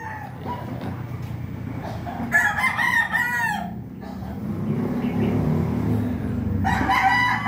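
Gamefowl roosters at a game farm crow in two clear, full calls with a lower background clamor between them, the birds fairly close and loud.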